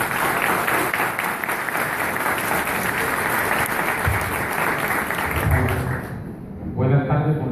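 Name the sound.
audience applause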